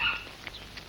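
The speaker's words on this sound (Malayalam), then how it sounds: "ഈ ജന്തു കുരയ്ക്കുന്നോ?" A dog gives a brief bark or two, fairly close, in a short burst with a quieter yip following.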